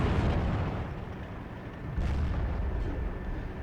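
Artillery and gunfire roar steadily in a World War II strategy game battle involving Soviet T-34 tanks, a dense continuous rumble of distant shelling with a few sharper bursts standing out.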